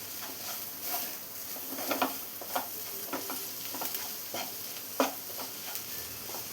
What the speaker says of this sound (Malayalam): ഇനി ഹൈ ഫ്ലെയിമിൽ വെച്ച് എല്ലാം കൂടി നന്നായി തന്നെ ഒന്ന് മിക്സ് ചെയ്തെടുക്കാം.